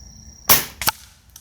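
A single sharp shot from a .25 Avenger air rifle at a flyswatter target on a range, close and crisp, followed by a quick smaller crack and a faint tick as it settles.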